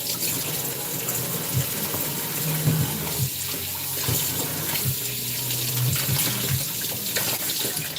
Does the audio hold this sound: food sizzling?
no